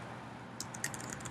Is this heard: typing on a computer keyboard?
yes